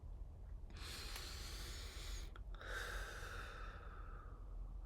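A slow, deep breath drawn in and let out with an audible sigh, close and alone, with a brief pause between the long inhale and the exhale.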